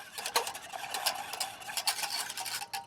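A whisk scrapes and clatters steadily around a pot of melting hot chocolate, quick rhythmic metallic strokes up close with no talking.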